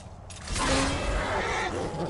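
A horse in the video game Skyrim whinnies once over a steady background hum, a short breathy neigh that fades into ambient noise.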